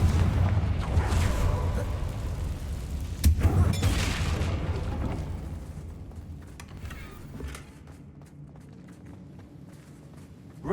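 A Confringo fire spell explodes near a damaged bridge in Hogwarts Legacy, a sharp boom rising over steady game ambience and footsteps, then the rumble fades to a quieter background.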